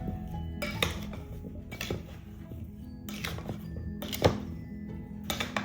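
Ingredients for corned beef and cabbage mixed in a pan, with repeated clinks and knocks of a utensil against metal in short bursts, close and moderately loud.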